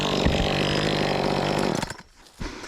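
Two-stroke gas top handle chainsaw runs loud and close with a buzzing, steady high rev, then cuts off abruptly, leaving a brief pause and a short sputter.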